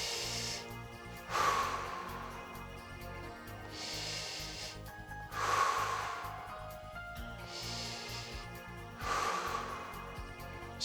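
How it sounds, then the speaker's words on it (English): Deep, slow breathing in and out during a legs, bums and tums workout, three long breathy swells spaced a few seconds apart over quiet background music, close and soft. "when I'm breathing in, I'm filling my hands up with air, and as I breathe out, I'm drawing my belly button in"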